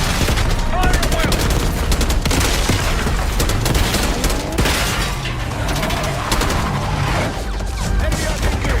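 Dense gunfire from the Call of Duty: Black Ops 6 campaign, rapid overlapping shots and bursts cracking continuously with booming impacts, loud and relentless throughout the whole stretch.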